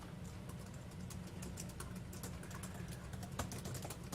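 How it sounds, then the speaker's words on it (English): Quiet, rapid typing on a computer keyboard, a dense stream of light key clicks with an occasional sharper tap, steady throughout with no speech. "we're sitting here typing on the computer"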